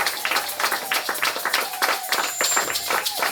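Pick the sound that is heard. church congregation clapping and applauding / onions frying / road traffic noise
church congregation clapping and applauding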